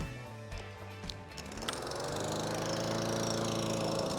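An aging lawn mower engine warms up outdoors at dusk, a steady close droning hum that turns rougher and louder partway through, then settles into a sustained running rumble.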